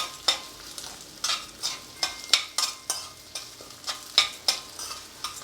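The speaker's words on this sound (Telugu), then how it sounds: "ధనియాలు జీలకర్ర అన్నీ వేగిపోతాయి కొంచెం నూనె వేసుకుని వేయించుకోండి" Coriander seeds, cumin and onion frying in a little oil, with a soft continuous sizzle punctuated by frequent sharp scrapes and taps of a spatula stirring the pan, close and rhythmic.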